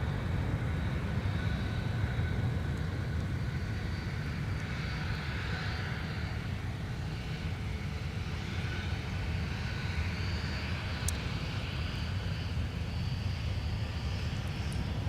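Airplane taking off from a runway at MSP airport, a steady distant roar of jet engines holding at an even level for a long stretch, with no voices.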